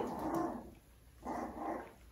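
Two low, rumbling growls from a five-week-old Aussiedoodle puppy, close by, separated by a short pause.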